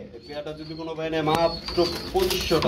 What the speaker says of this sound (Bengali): হলুদ কালার এটা কি ভাই লাহরি কবুতর না সিরাজি